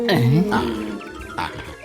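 A cartoon stomach growls from hunger in a few short, gurgling, grunt-like rumbles, close and fairly loud, with a brief vocal-sounding swoop at the start.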